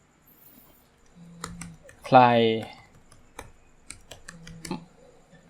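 Keys clatter on a computer keyboard in a few short bursts of typing while someone talks over them, with one louder spoken stretch in the middle.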